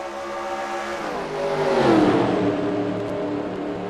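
Race cars roar off a green flag start at a Snickers Showdown stock-car event, with several engines revving and accelerating together in a loud, swelling mass of sound that peaks midway and then holds steady.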